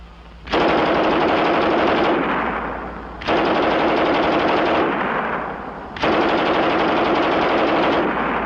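A German MG 34 machine gun fires three long, loud bursts of rapid automatic fire, each lasting about two seconds and separated by short pauses, with no talk.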